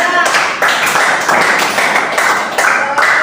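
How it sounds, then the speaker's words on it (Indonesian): A classroom group claps for the second group's presentation, a dense steady patter of many hands filling the room for about three seconds, with a brief dip partway through. "Tepuk tangan buat kelompok 2."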